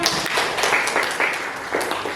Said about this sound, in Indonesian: Tepuk tangan untuk kami.